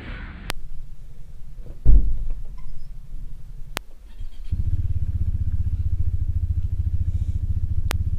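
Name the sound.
motorcycle riding on road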